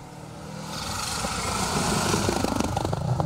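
A Subaru Impreza rally car on an asphalt stage of the Argyll Rally approaches from a distance, its engine note swelling steadily louder and ending in a rough, pulsing burble as it nears.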